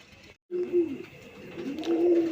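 A pair of red Rajgolla pigeons, male and female, coo close by in soft, low rolling calls, first a short burst and then a longer, stronger run after a brief silence.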